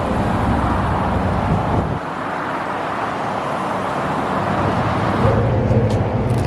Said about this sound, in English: That right there is my bus.